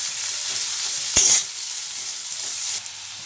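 Ingredients for thupka soup noodles fry in a pan with a steady bright sizzle, and about midway a louder burst comes as they are stirred before the sound settles back.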